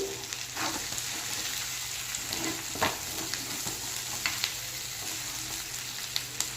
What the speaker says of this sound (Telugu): ఒకసారి మనం మళ్ళీ కలిపెట్టుకున్నామండి మన చికెన్ని